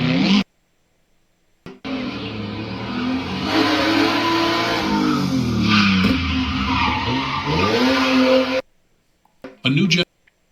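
A red Toyota Trueno with a 1.6-liter engine revving hard in a drift, tires skidding under a rising and falling engine note, bracketed by silent gaps and brief bursts at the edges.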